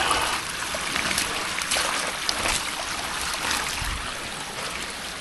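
Water flowing downhill along a weedy ditch in West Virginia rain season, a steady, fairly loud broadband rush with small trickling splashes throughout.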